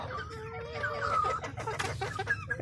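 Several hens clucking and chattering close by in a coop, overlapping bursts of short calls with no talking.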